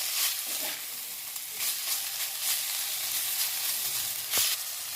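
Greens and eggplant sizzle steadily in a pan, with occasional scraping stirs and a sharper crackle near the end; no voices.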